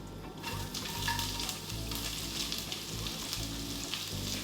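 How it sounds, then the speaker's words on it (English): Onion hits a hot pan and fries with a steady, dense sizzle, along with the aromatics already toasting there, a continuous crackling hiss close up with no voices. "At this point, we're gonna go in with our onion."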